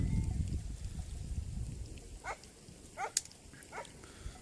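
A dog barks a few times in the distance, short separate barks over low outdoor wind rumble on a snowy day.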